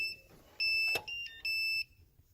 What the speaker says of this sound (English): Our key is beeping.